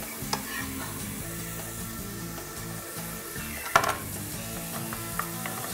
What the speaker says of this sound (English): Stir it around just a little bit.